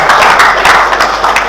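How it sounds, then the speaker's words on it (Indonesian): A crowd of attendees at a national waste-awareness ceremony applauding a minister, with continuous, dense, loud clapping throughout. "Tepuk tangan untuk Bapak Menko dan hadirin yang kami hormati."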